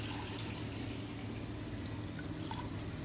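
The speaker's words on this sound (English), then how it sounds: "you're going to pour some water into the pot to cover the chicken" Water poured into a cooking pot over chicken, a steady faint rushing splash continuing evenly throughout without pause.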